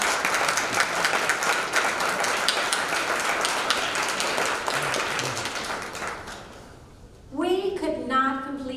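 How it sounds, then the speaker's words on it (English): Audience applause for presenters at a Martin Luther King Jr. tribute program, a steady broadband patter of many hands for about six seconds that fades out, followed by a voice beginning to speak. "let us give them another round of applause"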